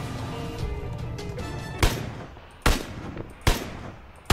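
PUBG gunfire: several sharp, loud shots at irregular intervals over a low droning background, with no talking.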